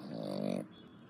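A dog gives a short, close, rumbling growl-whine lasting about half a second, then goes quiet.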